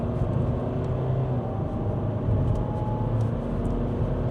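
A Maxus T90 pickup truck accelerates at full throttle onto a highway, its engine giving a steady, loud, droning roar throughout with no break.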